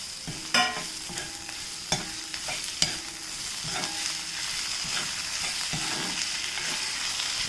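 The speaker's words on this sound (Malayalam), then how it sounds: "ഈ ടൊമാറ്റോയും കൂടി ഇട്ട് ഇളക്കി കൊടുക്കാം" Tomato is stirred into a sizzling pepper kurma curry with garam masala, a close, steady frying hiss broken by repeated clacks of a spoon against the pan, with no talking.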